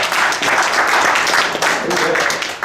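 A crowd at a political party talk bursts into applause, a dense and fairly loud patter of clapping that swells and wavers briefly, with a voice faintly mixed in underneath.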